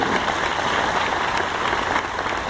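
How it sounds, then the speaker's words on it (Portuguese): Applause from a congregation at a prophetic church conference in Salvador, Bahia, Brazil: steady, dense clapping that holds at an even level throughout, with no speech over it. "Vamos dar um aplauso."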